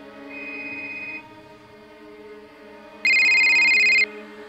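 A phone rings inside a horror video game, with an electronic tone sounding briefly, a short pause, then a louder, sharper ring burst lasting about a second over a faint background hum.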